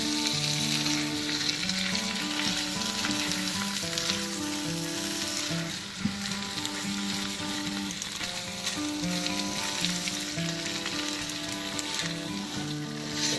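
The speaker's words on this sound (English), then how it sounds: "we'll combine all the pasta and sauce together" Pasta being stirred together with sauce in a hot pan for a lemon spinach dish gives off a steady, close sizzle with stirring noises, over soft tonal background music.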